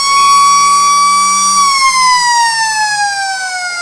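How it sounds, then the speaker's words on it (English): A loud, sustained siren sounds three-quarter time at a Riverina Australian football match between the Lions and Swans, one long steady wail that dips slightly in pitch near the end, with faint crowd noise underneath. "Siren goes."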